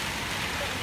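Heavy rain falling on a boat, heard from inside with the hatch shut: a steady, even hiss with no breaks.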